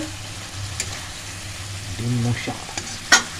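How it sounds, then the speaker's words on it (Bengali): Egg kosha with potatoes sizzling in spiced oil while being stirred, a close frying crackle broken by scraping utensil strokes and a sharp clatter near the end. "ডিম কষা, ডিম কষা বানাচ্ছে।"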